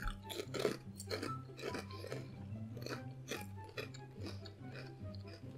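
Foreign potato chips being eaten up close, with a series of crisp crunches and chewing bites in an irregular rhythm over a faint background hum, no talk.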